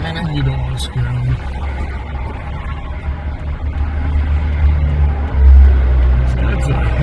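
Highway traffic streams past a roadside stop, a steady low rumble of cars and trucks that swells briefly louder as a heavy vehicle passes near the end.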